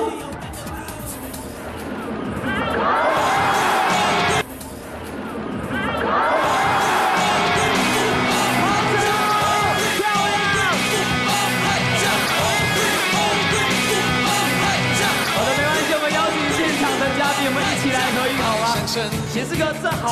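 A baseball stadium crowd at Xinzhuang Baseball Stadium cheers, shouts and applauds in a dense, loud, sustained roar for about twenty seconds, with a brief dip near the start and chatter mixed throughout.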